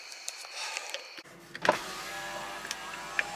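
Car power window whirs briefly as it rolls down on a farm driveway, a faint motor hum after a soft click, with a sharper knock midway and quiet idle in the background.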